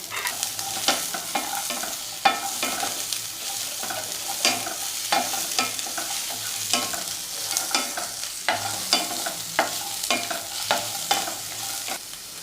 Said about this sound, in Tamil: ரெண்டு மீடியம் சைஸ் வெங்காயம் கட் பண்ணி வச்சுருக்கேன்ல அதையும் சேர்த்து ஒரு வதக்கு வதக்கிக்கலாம்